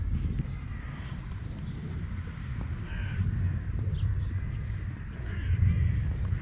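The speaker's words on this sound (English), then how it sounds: "our little crows in there." Crows cawing among pigeons at an outdoor feeding spot, with brief calls scattered over a steady low rumble of background noise.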